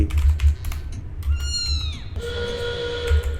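A cat meows once, clearly and close by, a drawn-out cry in the middle of steady computer keyboard typing and low background hum.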